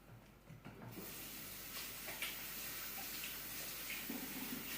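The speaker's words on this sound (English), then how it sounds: "we're going to start off by washing our hands" Hands being washed under a running tap, water flowing steadily and fairly close throughout, while preparing to bake sugar cookies in a kitchen.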